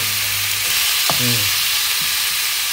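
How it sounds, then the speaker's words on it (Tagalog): Spare ribs sizzle and fry in a hot pan for sinigang, a steady close hiss of sautéing with a brief stir partway through, no talking. "Gisa. Lagyan na natin yung spare ribs natin."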